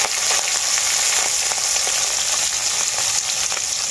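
A small batch of puti fish fries in hot mustard oil, giving a loud, continuous sizzle with frequent small pops and spatters and no voices.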